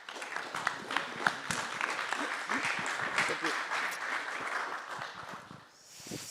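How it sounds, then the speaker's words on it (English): Audience applause for a speaker at a blockchain event, dense clapping from a hall crowd held steady for about five seconds before fading out at the end. "Big applause for Oliver Stauber."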